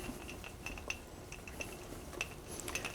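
A spoon stirring clam fritter batter seasoned with pepper, with soft scraping and light clinks against the bowl continuing steadily and close up, no talk.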